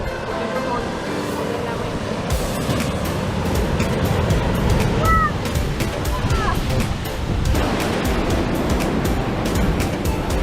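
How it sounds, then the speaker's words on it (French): Big ocean waves break and wash near a beach in the Exuma cays, a loud continuous surf roar with crashing surges and wind, while people talk over it. "Fais attention, bien ici, il y a des grosses vagues"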